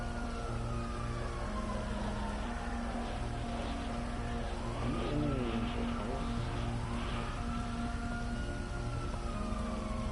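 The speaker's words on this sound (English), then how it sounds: "Here's sirens." Police sirens wail with rising and falling tones in GTA Online, heard faintly over steady engine drone and continuous game background noise.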